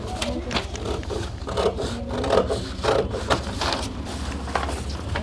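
Scissors snip through blouse fabric while cutting the upper neckline shape of a boat neck blouse, a close, steady run of soft rasping cuts with no talk.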